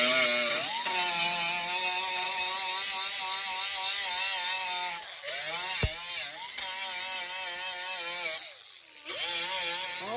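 A high-speed air grinder with a 36 grit Roloc disc works on a car rocker panel, a close, whining mechanical drone that dips and rises as the tool bites into the metal, pausing briefly twice.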